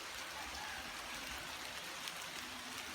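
Rain falls in a soft steady wash with faint drips, quiet and even throughout, no voices present.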